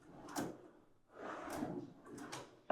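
A Salice soft-close drawer slide glides shut in a few soft sliding rushes, ending in a sharp, close click as the drawer closes.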